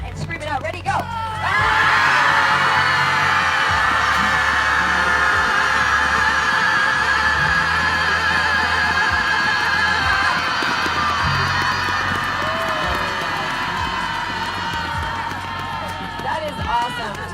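A large class at a yoga and music festival screams out loud together in one long sustained burst, loud and close, with scattered shouts and voices before and after it.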